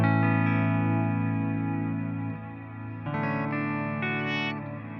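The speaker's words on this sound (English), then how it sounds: "Let's take the phaser mix down, and now all you have is just a regular old reverb." A Source Audio Encounter pedal with the phaser mix turned down sounds a sustained, lushly reverberated tone, ringing and slightly wavering, then a fresh chord enters midway and blooms over the decaying tail.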